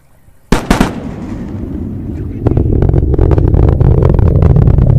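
Twin sonic booms from landing rocket boosters arrive as a sharp loud double crack, then a rising, sustained rumble with crowd noise and crackling that fills the rest of the clip.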